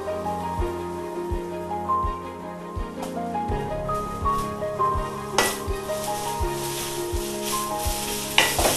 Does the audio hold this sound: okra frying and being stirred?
yes